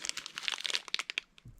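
A plastic Bakugan packaging bag crinkles up close in a quick flurry of crisp rustles, fading into a few scattered crackles.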